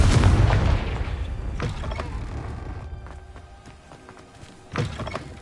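Confringo spell explosion in Hogwarts Legacy, a loud booming blast at the start that fades into creaking and thudding debris, with a second sharp impact near the end.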